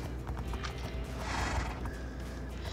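A mare's hooves clopping in Minecraft roleplay on a farm, soft steady steps over a dense, continuous game background with faint other noises.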